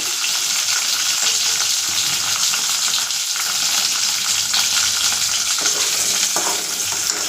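Okra stir-fries in a pan with a steady, close, broadband sizzle that holds evenly throughout, broken only by faint scrapes of stirring.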